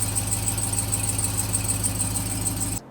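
A supercharged engine in a 2021 Ram TRX idles with a fast, steady ticking over a continuous hum and a high whine, close and even for a few seconds before cutting off.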